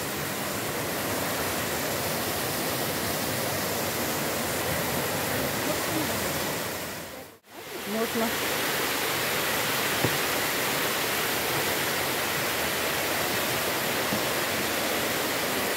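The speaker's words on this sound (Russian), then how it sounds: "Вот так, водопад за водопадом будем подниматься." Steady broadband roar of the Kupava waterfall near Lazarevskoye, Russia, close by, continuous throughout with a brief dropout midway; a voice speaks briefly.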